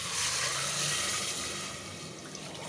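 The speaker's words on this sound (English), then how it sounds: "And then in goes the water" Water pours and splashes into a pot of rice in a steady gush that softens slightly toward the end; no voices.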